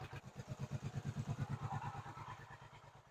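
A hot rod car engine idles with a steady, lumpy pulsing rhythm, close and moderately quiet, settling slightly toward the end.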